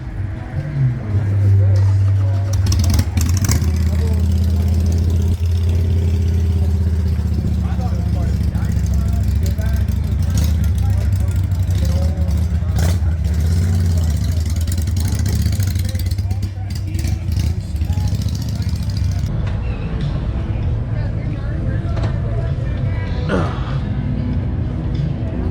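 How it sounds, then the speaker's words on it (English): A Harley-Davidson Road Glide Special motorcycle on a test ride, its engine giving a steady loud low rumble throughout with wind noise, holding mostly even with slight changes in pitch. "now let's do the Road Glide Special test ride and see how that went for me"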